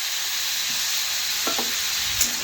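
Cumin paste frying in a pan as it is stirred in, a steady close sizzle with a few soft scraping strokes of the spoon.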